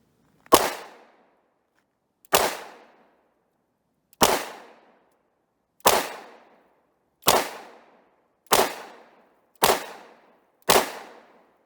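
Eight sharp gunshots from a Romanian TTC Tokarev pistol firing 7.62x25mm rounds at a range, evenly spaced about 1.5 seconds apart at first and then quicker, each loud crack ringing briefly, with no talk.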